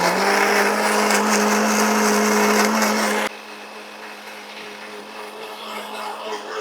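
A kitchen mixer blends a tandoori chicken marinade with oil and colouring, running as a loud steady whir that drops abruptly to a quieter hum partway through.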